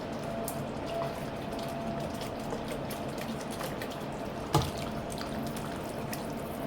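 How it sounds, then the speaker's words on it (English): Hot or boiled water is poured to rinse a bottle in a kitchen, a soft continuous splashing and trickling with one brief louder clink partway through. "Then we're gonna use our hot water or boiled water to rinse this bottle."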